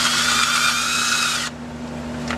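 A 3/8-inch electric drill spins a drill bit that has been sanded down to fit, giving a loud steady high whine with a hum underneath for about a second and a half before it cuts off and a lower residual noise remains.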